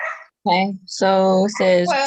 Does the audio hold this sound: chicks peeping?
no